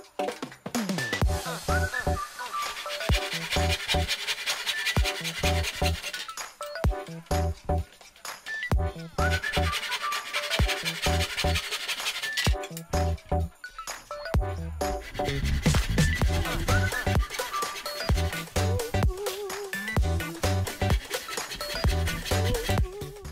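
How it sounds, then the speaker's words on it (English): Wood pieces being cut by hand with a saw in a miter box, clamped to a table: steady repeated back-and-forth rasping strokes in long bursts with brief pauses, close and fairly loud, no talking. "I clamped a piece of wood to the table so I can saw the 12 pieces at the same length."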